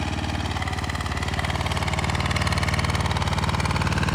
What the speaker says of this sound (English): it's motoring here, idling away, ready to do its job.